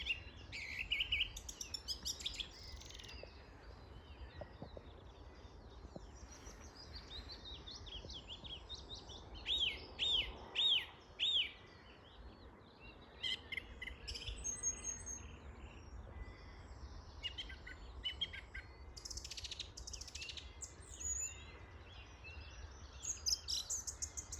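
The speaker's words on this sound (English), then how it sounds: "Just sitting listening to another willow warbler as he's just moved in." Bright, rapid phrases of a willow warbler repeat over a steady low rumble, with several short descending song bursts and other birds chirping around them.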